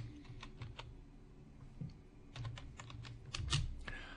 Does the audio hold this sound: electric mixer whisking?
no